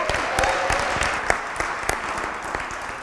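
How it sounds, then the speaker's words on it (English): A live audience at a Texas 4-H leadership event applauds steadily, with individual sharp claps standing out and a few scattered cheers mixed into the dense clapping. "can y'all cheer one more time?"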